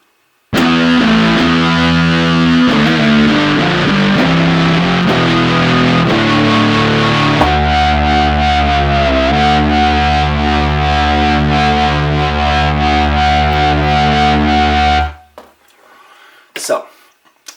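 Heavy, distorted FM-X guitar-style synth patch played on a Yamaha MODX/Montage, loud and thick with sustained chords and shifting held notes for about fifteen seconds before cutting off abruptly.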